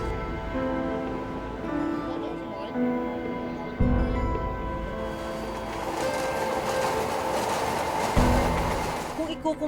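A crowded MRT commuter train runs along its track, a continuous rumbling drone with humming tones, carriage clatter and two sudden jolts, while a voice talks over the top.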